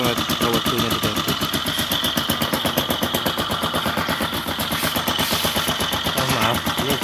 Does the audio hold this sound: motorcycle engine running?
yes